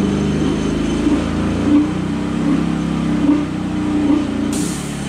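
An air compressor's electric motor runs on generator power, straining with a low labored hum and wavering drone that never settles to full speed, steady and fairly loud with no one talking.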